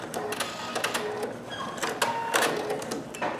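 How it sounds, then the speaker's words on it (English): A Pfaff Creative Vision embroidery sewing machine runs its automatic thread cutter, a steady mechanical whirring and clicking with short motor whines and tapping bursts, close and continuous with no talking. "Then I can press the cut."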